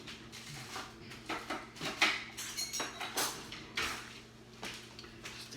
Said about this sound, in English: Let me get a knife here.